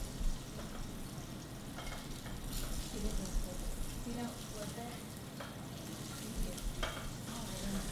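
Yellowfin tuna pan-searing in oil gives a steady, close sizzle and crackle throughout, with faint clatter and light movement over the frying.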